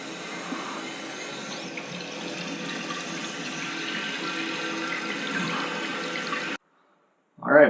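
Water running steadily into a toilet cistern on a newly fitted dual-flush valve after the supply line is reconnected, a constant close hiss and rush for about six and a half seconds before cutting off, then a brief louder burst.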